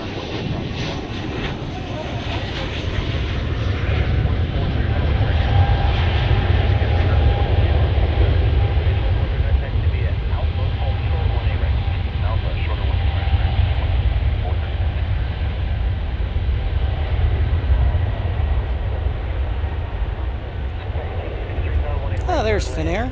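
A Finnair airliner at Dallas Fort Worth airport gives a steady, loud jet engine roar that swells and holds for the whole stretch. Radio chatter and nearby voices carry over the rumble.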